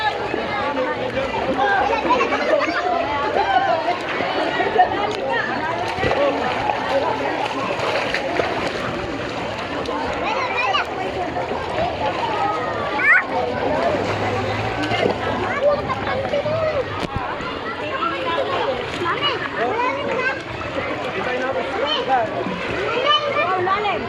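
At a third birthday gathering, children swim and splash in water, a steady wash of splashing under lively chatter and kids' voices.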